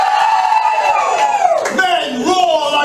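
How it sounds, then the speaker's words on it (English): Women in a comedy club audience cheer loudly, a bright crowd of high voices with shrill whoops and rising yells over scattered clapping, sustained throughout. "Women, give us a cheer."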